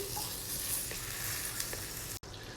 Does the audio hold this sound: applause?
no